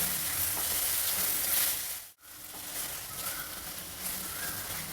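Chitranna gojju frying and being stirred in a pan, a steady close sizzle with stirring, briefly cut off by a short break before the hiss resumes.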